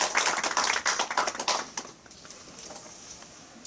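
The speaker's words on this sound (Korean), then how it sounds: "총장님께서 나오실 때 박수 한번 크게 해주시죠" Audience applause at a Korean press event for a charity donation of face masks to Christian organisations: dense, fairly soft clapping for about two seconds, then thinning out and fading into a quiet room.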